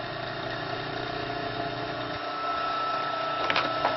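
A grid-powered electric motor runs steadily just under 1,800 RPM, giving a continuous mid-level hum with a faint knock or rattle near the end.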